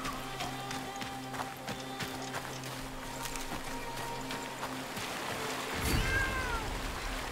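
A cat meows in the video game Blacktail, a clear call near the end rising over a steady bed of game ambience, with footsteps or hoof-like taps earlier and no talking.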